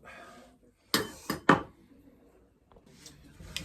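A spoon clinks and scrapes against a bowl while Lebanese tabbouleh is mixed after fresh lemon juice is added: three sharp, close knocks in quick succession, then quieter scraping.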